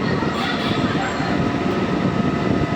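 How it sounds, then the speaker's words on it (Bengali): A special inaugural passenger train runs from Amghata toward Krishnanagar City Junction, heading under a highway flyover, producing a steady, loud rolling rumble and rattle of wheels and carriages that holds evenly throughout. "এই ট্রেনটি ফ্লাইওভারের নিচ দিয়ে যাবে"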